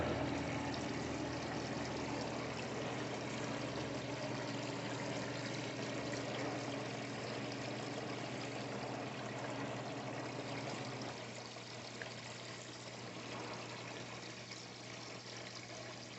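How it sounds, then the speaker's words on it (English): A slow, steady stream of liquid trickles from a bottle into water while homebrew compost tea is being made, a soft continuous pour that goes on for several seconds and eases slightly near the end, with no voices. "I'm just slowly kind of letting it come out of the bottle here. Putting it into the water."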